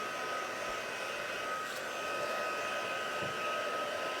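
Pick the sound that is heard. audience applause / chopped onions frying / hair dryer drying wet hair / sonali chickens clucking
hair dryer drying wet hair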